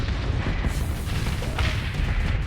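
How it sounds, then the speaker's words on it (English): Heavy artillery explosions in the space combat game Starsector, a dense, continuous rumble of booming blasts close by, with layered bursts flaring throughout and no voices. "Point blank firing your artillery rounds into me?"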